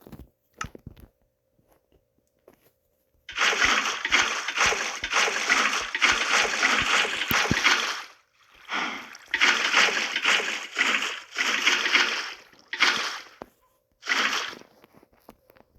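Water splashes into a pool in Minecraft as a series of loud, close, hissing splash bursts, several long rushes separated by short silences, with no talking.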